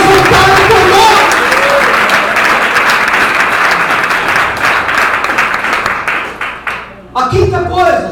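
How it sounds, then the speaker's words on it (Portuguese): A church congregation claps steadily and loudly for several seconds, a dense wash of applause that thins and breaks near the end as voices come through. "Dá uma salva de palmas ao Senhor."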